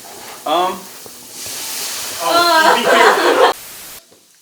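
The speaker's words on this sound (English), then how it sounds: "we're gonna add a quick dash of wine to the mushrooms to deglaze finally that pan" A dash of wine hits a hot pan of mushrooms, giving a loud, rushing sizzle that swells and then cuts off abruptly, while voices talk over it.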